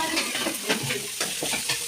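Onions and green chillies fry in a pan with curry leaves, a steady close sizzle broken by repeated scraping stirs, with no talking.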